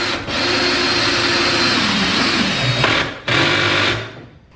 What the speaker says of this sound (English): So I got another screw I'm gonna put in.